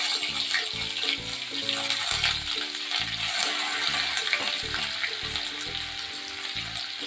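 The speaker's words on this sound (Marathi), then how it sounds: "आता मी फोडणी देते सगळ्यात आधी मिरची लसूण आणि आलं घालून देते" Chili, garlic and ginger dropped into hot oil for a tempering, giving a bright crackling sizzle, with a low repeating melodic tone in the background and no speech.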